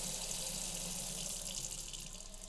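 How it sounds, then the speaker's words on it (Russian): Water runs steadily and quietly from a tap inside a modular house fitted with a smart-home leak sensor system, a continuous hiss with no talking. "Вот сейчас мы инициируем сработку датчика протечки воды."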